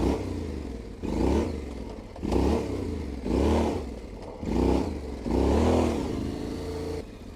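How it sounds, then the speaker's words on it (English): An adventure motorcycle on a relatively new rear tire slides its back wheel in a controlled drift, the engine surging in about five loud, rhythmic bursts of revving, each rising and easing off, close by with no talking. "carefully slide the rear wheel a little bit using a controlled drift"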